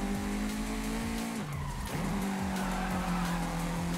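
A Jurassic Park truck in Forza Horizon 5 takes a corner fast, its tires squealing and skidding over a steady engine drone. The engine pitch dips briefly, then resumes at a constant hum, loud and close.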